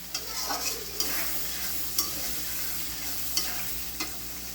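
Tomato and spices sizzle in a pan while a spoon stirs them, sharp scraping strokes landing roughly once a second over a steady low fry, with no voices.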